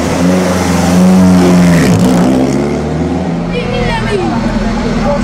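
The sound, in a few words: vintage Mille Miglia race cars accelerating away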